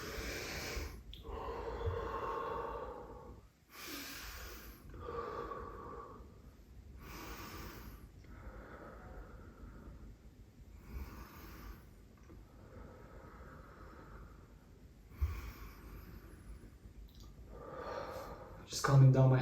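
Heavy, rhythmic breathing during a rest after a lower body strength exercise, with deep loud inhales and exhales repeating every few seconds close to the microphone.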